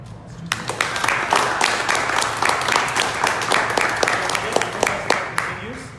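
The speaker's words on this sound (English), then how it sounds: "please give them a round of applause" Audience applause for activists at a film screening event in Santa Fe, a dense steady wash of many hands clapping that swells quickly and holds strong for several seconds, with a few voices faintly mixed in.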